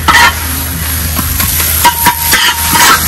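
Onions and tomatoes fry in coconut oil for a Kerala-style duck roast, a loud close sizzle with repeated scraping stirs against the pan.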